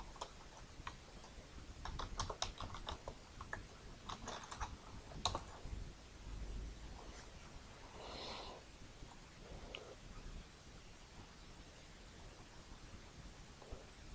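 Computer keyboard typing while entering values in Kali Linux: soft, scattered clicks and taps, clustered in short bursts early on and then sparser, faint against a quiet room background.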